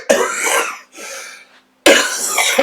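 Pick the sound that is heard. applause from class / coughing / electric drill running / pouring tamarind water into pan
coughing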